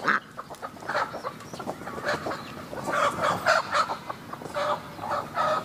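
Several hens cluck and squawk nearby in irregular bursts that rise and fall, fairly loud and busy, with no voices.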